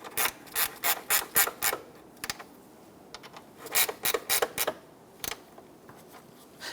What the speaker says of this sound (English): Go ahead and snug down the 4 bolts across the top